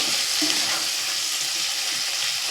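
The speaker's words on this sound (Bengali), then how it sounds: "এবার আলুটাকে ভালো করে একটু কষিয়ে নেব।" Potatoes sautéing in a pan for aloo paratha filling, a steady close sizzle and fry hiss with a faint stir scrape and no talking.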